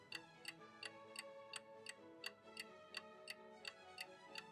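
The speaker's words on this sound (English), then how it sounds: "The loud ticking noise didn't match up with my heart." A clock ticks steadily and crisply, about three sharp ticks per second and evenly spaced, clear and close against a faint humming tonal background with no talking.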